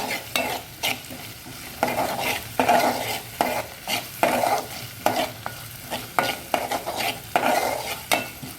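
A spoon stirs a ginger, garlic, coriander and curry-leaf paste frying in a pan, with repeated rhythmic scraping strokes over a steady sizzle, close and fairly loud, no voices.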